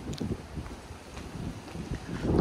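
Steady roaring wind gusting around 80 km/h during severe weather in the Bay Area buffets the microphone, with low rumbling gusts swelling and fading throughout and a louder surge at the end.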